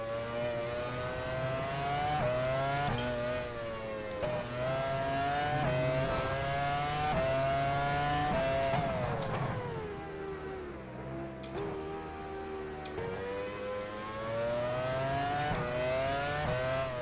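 An F1 car engine screaming at full throttle in the F1 Challenge 99-02 racing game during 2004 preseason testing, the high whine rising steadily through each gear with brief drops at quick upshifts, and a deeper dip midway through a slower corner.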